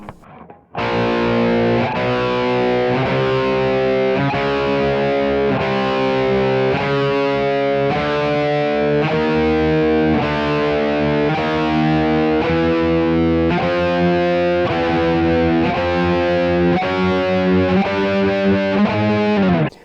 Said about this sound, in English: It's just a series of power chords all played with 2 fingers, up chromatically